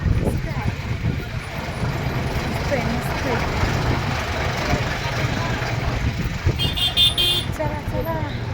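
Busy road traffic near Pandharpur, with engines rumbling, vehicles passing, and several short car horn toots near the end, heard close by in a continuous wash of traffic noise.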